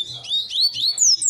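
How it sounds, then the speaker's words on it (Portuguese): A papa-capim seedeater sings a rapid run of high, sweeping chirps and trills in a short burst, close and clear, with a faint voice underneath. "Esse Papa Capim é fenômeno, rapaziada. Canta demais."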